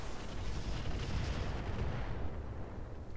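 Mech weapons volley in the BattleTech mod Roguetech, missiles and other guns firing together as a continuous, loud, rumbling barrage of overlapping booms and crackle that eases slightly toward the end.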